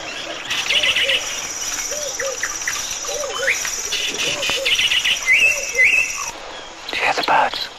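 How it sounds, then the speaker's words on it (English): Wild birds call and whistle in the bush during a 1960s leopard hunt, bright chirps and short rising whistles over a steady insect and cricket drone, with a faint voice now and then. "Do you hear the birds?"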